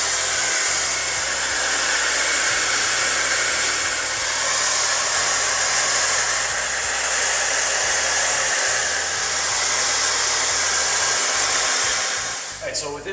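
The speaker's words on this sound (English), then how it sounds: "you're welcome to use something like a hair dryer or a fan" A hair dryer blows steadily and loudly for about thirteen seconds, a constant airy roar with a low motor hum, used to speed the drying of a wall surface repair, then switches off at the end.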